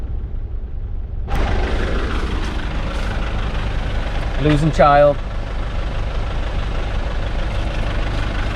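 A Nissan truck's engine idles with a steady low rumble at a quarter-mile track, close by and continuous, while someone talks over it and a brief whining buzz rises and fades midway.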